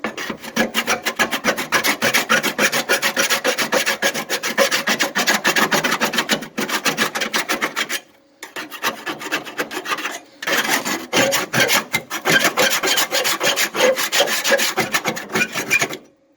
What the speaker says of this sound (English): So this stuff is best like scraped off. I'm using a trowel.